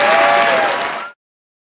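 A comedy show audience claps for the host, giving a short burst of dense, loud applause that cuts off abruptly after about a second.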